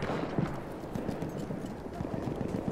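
Horse hooves clip-clop in a quick, uneven rhythm, fairly quiet and slightly muffled, as game audio from Battlefield 1.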